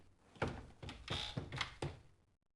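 A door is shut carefully, a series of soft thunks and light knocks from the latch and frame at close range, fading into silence at the end.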